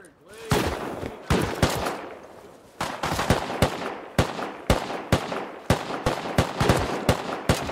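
Rapid gunfire in the survival game Rust, a long series of sharp, loud shots, some single and some in quick pairs, cracking out at an uneven rhythm, with excited voices now and then.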